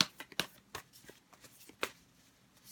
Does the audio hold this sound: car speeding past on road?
no